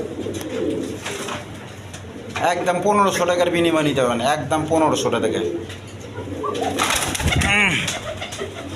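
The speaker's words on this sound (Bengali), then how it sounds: "এখানে একটা গোপালগঞ্জের পায়রা আছে দেখেন বড় পায়রা" A large Gopalganj pigeon coos in rolling bursts close by, partly under a voice talking over it for much of the time.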